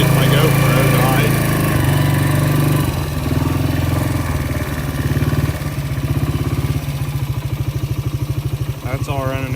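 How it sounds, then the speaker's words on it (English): A four-wheeler engine idles and chugs close by with a steady, loud mechanical rumble, its pulsing rhythm continuing throughout as a person talks over it. "Over here I got the four-wheeler."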